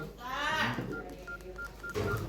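Beeping key tones from an old keypad telephone in a village home, a series of short evenly spaced beeps punched out one by one under nearby talking.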